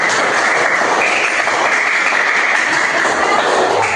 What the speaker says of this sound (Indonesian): ayo tepuk tangan dulu untuk kelompok.